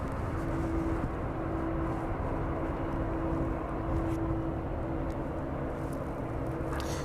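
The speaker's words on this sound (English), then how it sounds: "It sounds a DHL aircraft anyway." A DHL aircraft near East Midlands airport passes as a faint, steady distant jet roar with a low rumble, heard alone.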